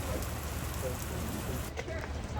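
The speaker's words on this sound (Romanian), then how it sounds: "Ia uitați cum plouă încolo, cum se vede negura pe munte." Heavy rain pours steadily during a mountain storm at Kotor, Montenegro, a dense, continuous hiss close to the microphone with no break in its intensity.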